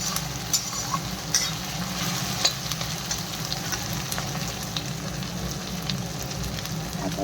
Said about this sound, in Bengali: আদা রসুনের পেস্টটা দিয়ে একটু ভালো করে কষিয়ে নিই, কষিয়ে ভালো করে ভাজা ভাজা করে